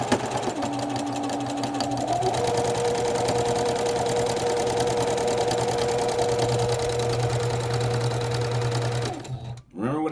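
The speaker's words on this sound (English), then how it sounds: "we're gonna backstitch" A sewing machine runs a steady, continuous stitching whir while backstitching pieced pinwheel quilt blocks, with a brief change in pitch early on, close and alone until it stops near the end.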